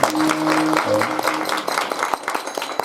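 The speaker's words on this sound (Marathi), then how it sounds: "सर्वांनी टाळी वाजवा" An audience at a devotional kirtan gathering claps together in a brief burst of applause, dense and close, fading after a few seconds.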